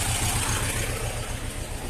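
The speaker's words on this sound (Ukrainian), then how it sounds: "А тракторець прогрівається." A T-25 tractor engine idles while warming up on a farm, a steady low chugging with an even, rapid pulse of firing beats, close and continuous.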